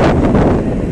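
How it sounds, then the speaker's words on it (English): Wind buffets the microphone during an uphill ride on an electric bike converted to a 48-volt system, heard as a loud, low, gusty rumble over one second. "Now it's kind of windy as well,"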